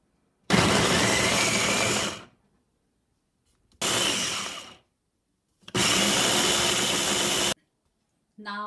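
Kitchen blender grinding onions, tomato, chili and ginger into a paste, running in three loud bursts of roughly two seconds each with short silent pauses between them.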